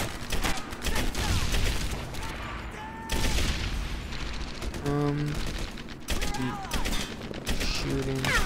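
Rapid bursts of gunfire from a Medal of Honor Airborne battle, loud and dense, with repeated volleys and sharp shots tumbling over each other across the whole stretch.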